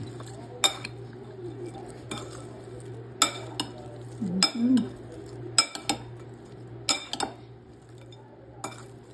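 Mango salad with dried anchovies being tossed in a bowl, with sharp utensil clinks and scrapes against the dish at an irregular pace over a faint steady hum, without speech.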